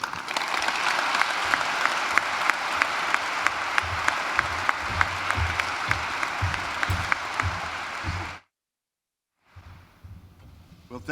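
A large audience in a hall in Oxford, Mississippi breaks into loud, sustained applause welcoming Senator Roger Wicker, dense clapping running steadily for about eight seconds before cutting to near silence.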